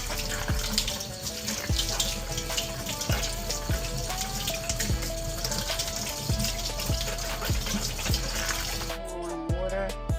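Warm tap water runs steadily into a sink while a banana pepper is washed beneath it, a continuous splashing stream with intermittent knocks and clunks, close and fairly loud, ending with a brief change as the flow shifts.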